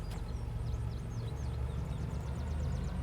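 A low, steady train locomotive engine rumble drones continuously in a video game, with chirping birdsong scattered above it.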